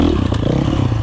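A 450 four-stroke motorcycle accelerates hard in first gear over an obstacle course, its engine roaring steadily and loud up close with a rough, throbbing low rumble.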